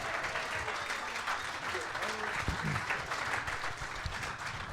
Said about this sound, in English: a round of applause tonight for Alex Light and Showtime